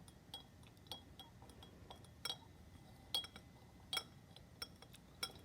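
Light glass clinks and taps as a rod stirs cooling naphthalene in a glass test tube, a steady scatter of faint ticks at an even pace over a soft background hiss.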